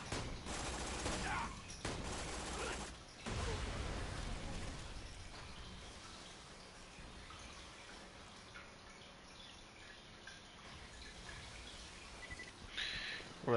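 Rapid bursts of gunfire from Borderlands 2 on Ultimate Vault Hunter Mode, loud dense volleys in the first few seconds giving way to a softer, steady rattle of distant shots and action noise, with a sharp burst near the end.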